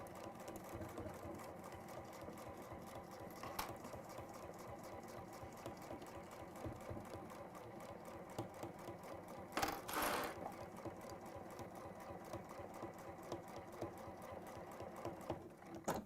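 A sewing machine stitches fabric with a steady, fast mechanical whirr and rhythmic needle clatter, running continuously and close, with a brief louder clunk partway through.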